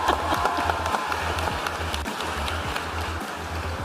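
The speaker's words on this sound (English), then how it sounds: "yes, you may clap" An audience applauds at a political speech, a steady wash of clapping from many hands that stays dense and even throughout, with no voice over it.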